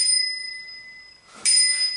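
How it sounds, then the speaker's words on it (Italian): A bicycle bell on a freestyle BMX bike is rung twice, a bright sustained ring at the start and a sharper, louder strike near the end, with a quiet gap between. "Lo faccio sentire il campanello."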